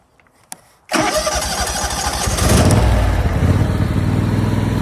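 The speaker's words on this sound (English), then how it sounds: "So it started with the choke." John Deere X340 riding mower engine is started on choke, cranking briefly after a click and then catching into a loud, rough, steady run close by.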